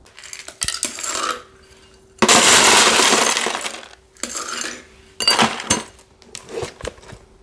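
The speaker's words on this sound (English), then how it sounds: "So I'm gonna grab some ice, throw this in the sink just to rinse it off" Ice rattling and a glass being rinsed in a kitchen sink, with bursts of running water and clinking glass in separate loud sections.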